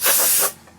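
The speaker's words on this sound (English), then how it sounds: "black spray paint." A loud, steady hiss of spray paint from an aerosol can, one burst lasting about half a second before cutting off.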